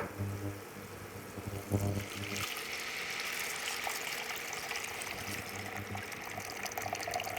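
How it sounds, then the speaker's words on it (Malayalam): Tamarind water is poured into a pan of ginger pickle, giving a steady liquid pour and trickle that runs on without a break, with a brief clatter near the start and no talking. "പുളിവെള്ളം ഇതിനകത്തോട്ട് ഒഴിച്ചു കൊടുക്കാം"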